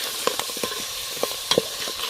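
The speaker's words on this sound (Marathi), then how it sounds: "आपण याला 10 मिनटं तेलामध्ये छान परतवून घेतो." Goat legs sautéing in oil in a pan during preparation of a Kolhapuri-style goat leg soup, with a steady sizzle and occasional clinks and scrapes of stirring, fairly close and without talk.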